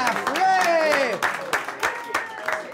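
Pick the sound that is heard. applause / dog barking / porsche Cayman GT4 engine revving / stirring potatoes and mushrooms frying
applause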